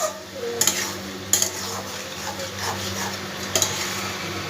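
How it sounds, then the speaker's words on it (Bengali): A spatula stirring bitter gourd curry with potatoes in a pan, giving soft scraping and sizzling under a steady kitchen hum, with a few sharp metallic clinks against the pan. "দেখো ভালো করে নাড়াচাড়া করে দিলাম।"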